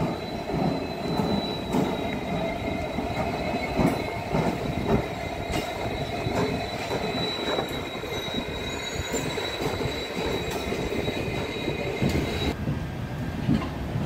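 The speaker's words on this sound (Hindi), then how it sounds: "जैसलमेर काठ गोदाम रानीखेत एक्सप्रेस मारवाड़ जंक्शन के प्लेटफॉर्म 1 पर अराइवल ले रही है" The Jaisalmer–Kathgodam Ranikhet Express pulls into platform 1 at Marwar Junction, with a steady loud rumble of rolling cars, wheel clatter and high, sustained wheel squeal throughout.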